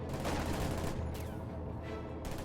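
Gunfire on a headquarters in a real-time strategy game, a dense crackle of rapid shots with bursts that rise and fade, fairly quiet and with no talk.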